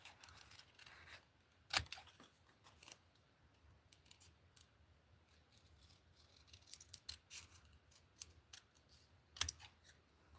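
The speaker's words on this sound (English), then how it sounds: "Turn the design, not the scissors, Linda." Scissors snip repeatedly while fussy-cutting a paper craft design, a string of close, crisp clicks with a few sharper cuts standing out over a quiet room.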